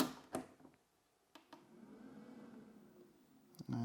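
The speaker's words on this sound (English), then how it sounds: "And the fan's now on." Cooling fan of a Jackery Explorer 500 portable power station running under load from a kettle, a low steady whir rising from about 1.5 seconds and holding, framed by a few soft clicks and knocks with a louder thump at the end.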